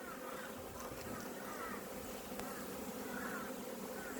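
Honeybees buzz steadily at a hive during spring colony management in cold mountain country around 700 m elevation, a continuous dense drone of many insects close by without talk.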